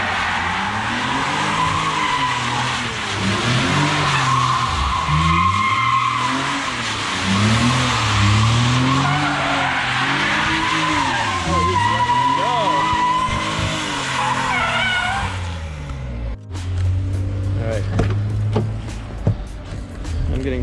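BMW E30 drifting, its engine revving hard in rising and falling sweeps while the tires squeal and skid continuously, loud and close, before the car eases off near the end; a voice speaks briefly.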